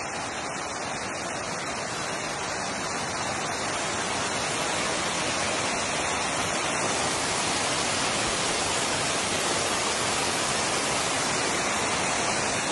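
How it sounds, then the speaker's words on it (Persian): Heavy salt-laden water pours steadily out of a desert mountainside at the Isfahan salt falls, a dense, continuous close-up roar of rushing water with no voices. "دل بیابون یه همچین کوهی وجود داشته باشه که این همه آب بیاد"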